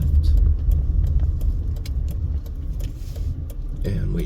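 A Mazda car pulls through an intersection in East Las Vegas, its engine and road noise rumbling low and steady, with light rattles and clicks scattered throughout and a brief murmur of voices near the end.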